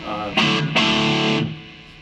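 A distorted electric guitar plays through a Marshall MG15 MSII amp, with two sharp struck chords that ring out and decay within about a second.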